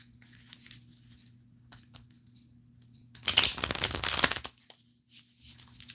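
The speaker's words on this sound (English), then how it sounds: "Do you want me to shuffle or you want me to split the deck?" A deck of tarot cards shuffled by hand during a reading, a sharp papery riffle burst lasting about a second in the middle, close and distinct against a quiet room with faint hum.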